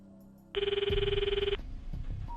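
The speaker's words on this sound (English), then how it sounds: "I could hear the call sound in my ear." In the visual novel Steins;Gate 0, a phone call ringing tone sounds as a single bright, pulsing electronic burst lasting about a second, with soft background music around it.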